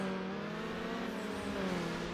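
A tuned car engine in the racing game Need for Speed Underground drones steadily at high revs throughout, loud and continuous with no speech.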